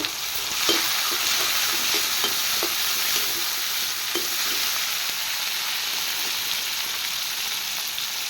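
A ground onion and tomato paste frying in a pan makes a loud, continuous bubbling sizzle close up, with a few faint utensil taps and no voices.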